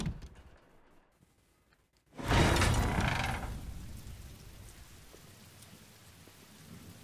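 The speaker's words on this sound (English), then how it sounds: "I love the sound of the rain." Rain falls in the video game The Walking Dead: Michonne, a quiet patter that bursts into a loud, rushing downpour swell before settling into a steady soft hiss.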